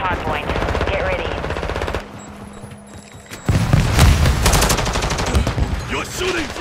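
Rapid automatic gunfire in Call of Duty: Modern Warfare II, loud and close, with bursts of shots broken by a short quieter stretch before heavier firing resumes.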